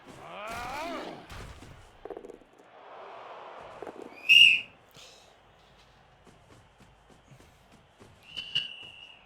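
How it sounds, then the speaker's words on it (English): A five-year-old child whistles loudly in a room: two sharp, shrill bursts several seconds apart, the first louder, with a quieter voice-like murmur and soft room noise between them. "That's some aggressive whistling."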